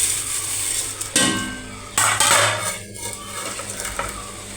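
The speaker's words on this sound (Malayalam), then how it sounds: "പിന്നെ ഞാൻ അതിനകത്തേക്ക് അവിലിടുകയാണ്." Beaten rice (aval) tips into a pan with ripe plantain and coconut and is stirred. A spoon scrapes and clinks against the metal in several close, uneven strokes over a soft frying hiss.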